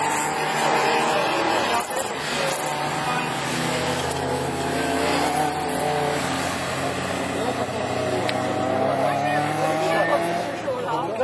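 Rallycross race cars on a dirt circuit at Lessay, France, engines droning and rising in pitch as they pass one after another, loud and continuous, under a commentator talking over the sound.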